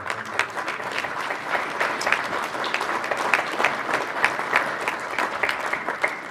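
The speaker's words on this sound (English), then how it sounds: "Please applaud." Steady, dense applause from a sizable audience at a technology awards ceremony at NAB Show 2018 fills the whole stretch, even and sustained without pauses or voices.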